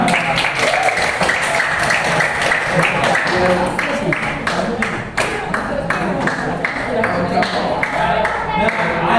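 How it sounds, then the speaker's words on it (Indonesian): An audience gives a presenter a round of applause, a loud, continuous spread of clapping with sharper individual claps standing out, while voices murmur underneath throughout. "Beri tepuk tangannya untuk Bang Fatima."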